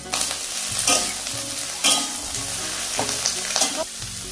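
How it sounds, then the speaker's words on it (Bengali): Okra and small diced potatoes frying in a pan, a continuous crackling sizzle broken by several sharp scraping stirs at regular intervals. "ভেন্ডিগুলো হালকা করে ভাজা ভাজা হলে এর মধ্যে ছোট ছোট করে কেটে রাখা আলু দিয়ে দিলাম।"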